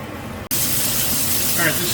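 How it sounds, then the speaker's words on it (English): A kitchen exhaust fan runs over a stovetop during home cooking, switching on abruptly after a brief quiet moment and then holding a loud, steady broadband whoosh to the end. "So I do have the exhaust fan running."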